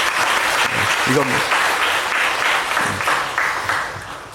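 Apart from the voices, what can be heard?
congregation applauding in church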